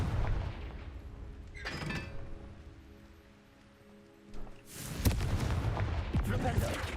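A Confringo fire spell is cast in the Hogwarts Legacy video game. It lands as loud, crackling bursts with booming impacts, first at the start, then after a quieter lull a second heavy blast that rumbles to the end.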